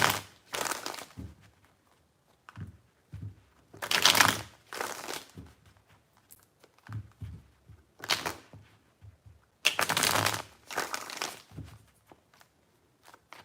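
Tarot cards being shuffled by hand in three bursts of crisp riffling and slapping, close and fairly loud, with quiet pauses between; no talking.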